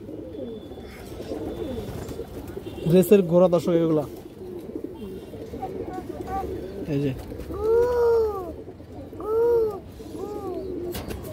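Kajla giribaz pigeons coo in a few soft, rising-and-falling calls near the end, following a stretch where someone talks over a background of birds.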